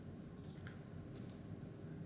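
A computer mouse clicking on a software screen: two faint, crisp clicks in quick succession against a quiet background hum, with no talking.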